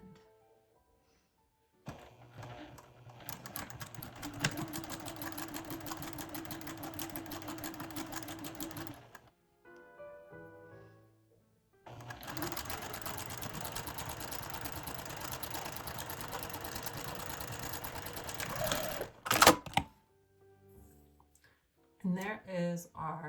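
A sewing machine stitches a French seam with a backstitch at each end, running in two steady buzzing bursts separated by a short pause and ending in a few clunks.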